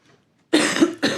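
Two sharp, loud coughs close to the mic after a brief quiet start, the second shorter than the first.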